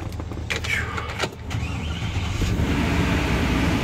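A Chevy 2500HD work truck engine cranks with a short starter whir, then catches and settles into a steady, loud idle rumble up close.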